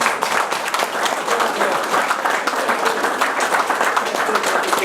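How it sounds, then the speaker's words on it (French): A crowd at a supporters' club gathering gives sustained, dense applause, many hands clapping at once in a steady wash that neither builds nor fades. "Vous pouvez l'applaudir parce qu'il le mérite"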